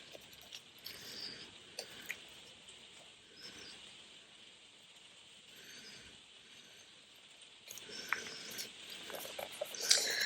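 Rain falling in a steady, soft patter with scattered louder drops and occasional faint chirps, growing slightly heavier toward the end.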